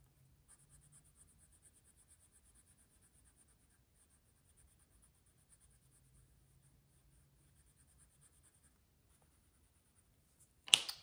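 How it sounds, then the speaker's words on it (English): A light blue colored pencil, held on its side, is rubbed across paper in faint, steady scratching strokes for a long quiet stretch, ending with a sudden sharp click. "So I'm going to grab this light blue colored pencil and you notice I'm coloring with it on the side"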